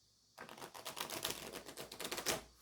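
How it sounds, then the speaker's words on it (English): Rapid crisp fluttering of Stone Visconti tarot cards riffle shuffled together, a dense burst of quick clicking that starts abruptly and runs steadily for about two seconds, close by. "I'll try doing 3 riffle shuffles here"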